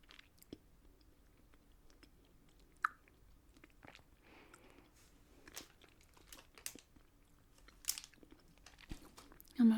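Someone eats a piece of chocolate peanut butter up close and quiet, with soft sticky chewing, mouth clicks and a few faint wrapper crinkles, ending with a brief louder sound.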